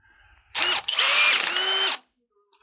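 A Dewalt cordless drill spins up on its low-speed setting with a brief whir, stutters, then runs steadily for over a second before stopping, loud and close in a quiet room.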